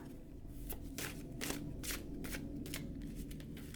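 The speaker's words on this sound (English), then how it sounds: "And then I shuffle again with the titles facing up." Steady, close card shuffling with repeated soft riffling bursts about every half second over a low background hum.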